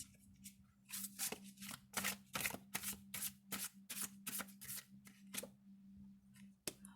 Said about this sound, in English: I'm just gonna quickly pull the cards instead of showing each one